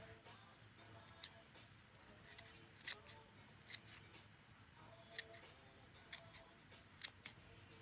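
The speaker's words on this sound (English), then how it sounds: "if I cut down the middle here of all this hair and string with me scissors" Blunt scissors snip repeatedly through hair and string tangled on a pet vacuum cleaner, at an irregular pace, close and fairly quiet, each cut a short crisp click with a faint rustle between.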